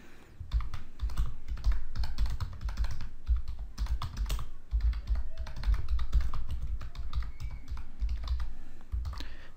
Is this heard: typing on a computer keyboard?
yes